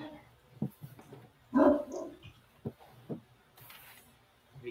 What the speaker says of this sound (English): He barks at anything.